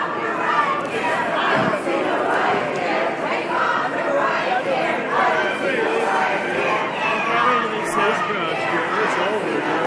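A large crowd at a Trump protest in Portland, steady roar of overlapping voices, chanting and shouts surrounding the listener, with a nearby voice talking over it.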